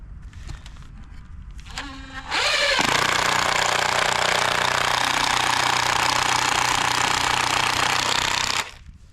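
Power drill driving a 4-inch screw through wooden patio bench boards, a loud continuous high-pitched whine that spins up after a few short bursts and holds steady for about six seconds before stopping abruptly, with no talk.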